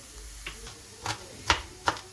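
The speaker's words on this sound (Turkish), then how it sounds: "Burada Mesut tekrardan soğan doğruyor." A knife chops onion on a board in a home kitchen, a few crisp, close taps at an uneven pace over a low room hum.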